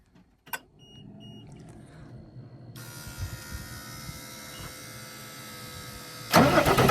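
The engine of an alfalfa hay-cutting machine starts up nearby, a faint click and whirring crank settling into a steady mechanical hum that grows suddenly louder near the end, with no voices.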